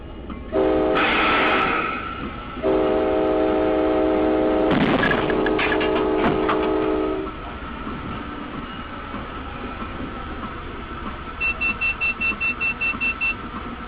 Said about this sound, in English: the engineer pulled the emergency brakes